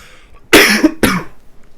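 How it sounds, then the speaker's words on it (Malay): A teacher coughs twice in quick succession, two sharp, close bursts alone in an otherwise quiet room. "Cikgu minta maaf ya, cikgu batuk."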